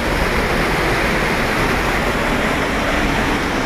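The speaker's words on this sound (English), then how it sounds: "There's a fucking waterfall." Steady, loud rush of a waterfall in a Bali monkey forest, a dense unbroken roar of falling water filling the whole stretch with no voices over it.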